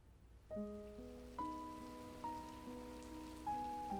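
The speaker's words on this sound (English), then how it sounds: "A light rain began to fall." Light rain falls as a faint, soft patter beneath slow, sustained piano-like notes in a horror story's quiet atmosphere, the music standing well above the gentle hiss of the rain.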